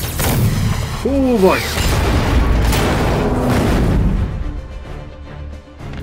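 Rocket launcher blasts and booming explosions in the Marvel's Spider-Man PS4 game, rolling and continuous under a game voice and a player's excited talk.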